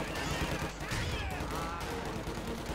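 Grenade blast in a Company of Heroes 2 1v1 match, rolling out amid dense continuous gunfire and battle noise, with a commentator talking over the chaos.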